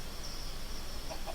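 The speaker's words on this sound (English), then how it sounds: "Come on, chicken." Chicken clucking in a Minecraft modpack, a soft, brief pair of game clucks heard faintly near the end of a short, quiet moment with no talk.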